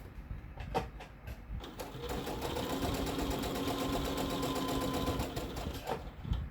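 A sewing machine stitching an apron, starting with a few clicks, then a steady close mechanical hum and rapid needle chatter for several seconds before stopping with a final click.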